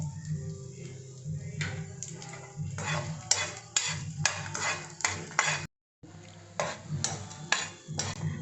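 Dal dry-roasting in a pan with chillies, stirred by a metal spoon that scrapes and taps in a quick, regular rhythm against a low sizzle, pausing briefly for a moment of near silence before resuming.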